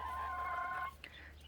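A big rooster in a backyard coop with other chickens gives a single sustained crow-like call that cuts off abruptly, followed by brief faint clucks and scratching noises against a steady low hum.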